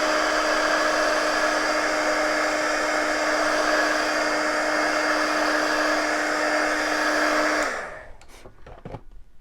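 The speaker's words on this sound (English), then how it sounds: "I'm going to hit my little heat gun to dry this a little bit." A small heat gun dries fresh paint on a wooden snowman shelf, blowing with a loud, steady whirring hum that cuts off near the end, leaving a few faint clicks and rustles.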